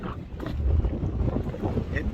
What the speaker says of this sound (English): It may be just a tiny bit windy up here.